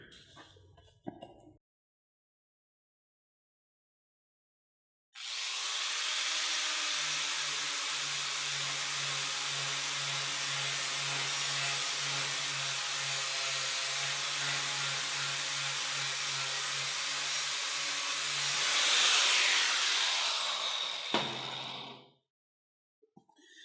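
An angle grinder cleaning a clamped metal surface before welding: a steady, loud whirring hiss held for about fifteen seconds, swelling near the end before winding down to silence.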